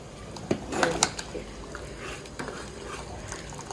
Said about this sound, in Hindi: ये सेंगड़ की फली डाल के दाल बना रही हूँ आज